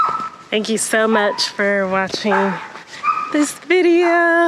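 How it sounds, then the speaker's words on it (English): A dog at Arbor Hills Nature Preserve yips and whimpers in the background, with several short sharp calls scattered beneath a person talking up close. "Y'all can probably hear the dog barking in the background"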